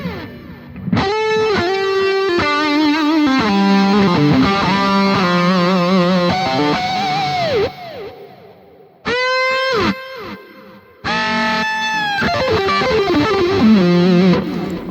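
An electric guitar runs through the Terra Echo effect of a Boss GX-100 processor, ringing sustained notes and chords with shimmering, warbling echo trails, two short pauses breaking the loud, continuous playing.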